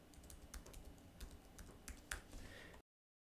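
Keys on a computer keyboard are typed in a short, irregular run of soft clicks, close by and quiet, ending abruptly in silence.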